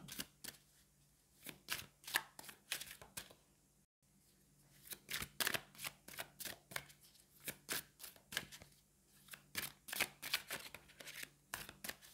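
A deck of Mystical Moments tarot cards being shuffled close by, soft riffling snaps and slaps in uneven bursts with a brief pause midway, quiet and alone without speech.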